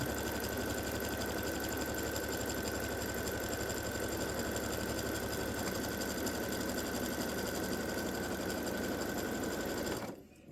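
An embroidery machine stitching a quilt block, giving a loud, steady, fast mechanical whir with a constant hum throughout that stops abruptly near the end.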